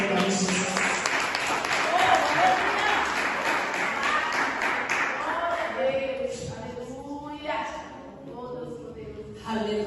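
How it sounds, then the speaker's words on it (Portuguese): A church congregation applauds loudly and steadily, the clapping dense and sustained for several seconds before fading as a voice begins speaking over the thinning applause. "Aplauda o Senhor em nome de Jesus."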